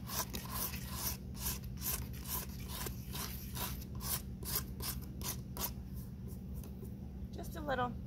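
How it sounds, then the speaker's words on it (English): Plaster of Paris filler on a clamshell is sanded by hand in a series of rhythmic rasping strokes, close and steady, with a soft crinkle near the end. "And I might need to sand that a little bit."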